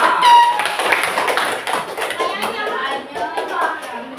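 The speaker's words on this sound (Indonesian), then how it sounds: "Oke, tepuk tangan untuk kita semua." A sixth-grade classroom claps hands together at a teacher's prompt, a fairly loud, close burst of children's clapping with some young voices mixed in.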